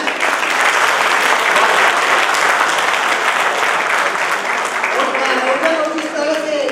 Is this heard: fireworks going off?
no